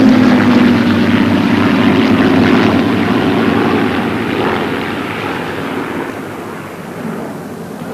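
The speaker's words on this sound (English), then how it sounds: "the sound of the Merlin engines of the Spitfire" Six Spitfires with Rolls-Royce Merlin engines in a flypast at the 1986 Biggin Hill air show, a loud sustained piston-engine roar with a droning tone that slowly recedes and softens over eight seconds.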